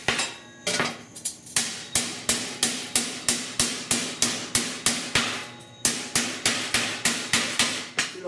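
A rounded-head hammer shapes a metal seatbelt mount while fabricating for a 1966 Ford F100, delivering about twenty sharp, ringing metallic blows at a steady, evenly spaced rhythm, close and loud, with one brief pause midway.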